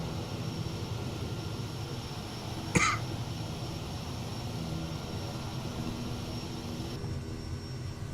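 Kodiak 100 turboprop taxiing in Microsoft Flight Simulator 2020, a faint, steady engine hum with one brief throat-clearing cough partway through.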